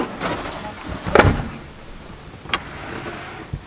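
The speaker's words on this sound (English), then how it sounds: "Table on top, which pulls out." A wooden table slides out from a drawer unit in the back of an Isuzu MU-X, giving a short rolling scrape and a thump, then a lighter knock, with no talk.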